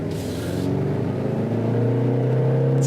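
A 2018 Jaguar E-PACE engine revs with a raspy exhaust, a steady, loud, close drone whose pitch climbs toward the end, with no voices over it.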